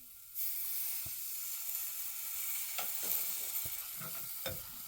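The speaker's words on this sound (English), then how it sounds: "So I'm going to pour in a little bit of water here." Water hits a hot pan of dry chickpea (channa dal) masala and sets off a loud, sustained sizzle, with a few sharp scrapes and clinks of stirring mixed in near the end.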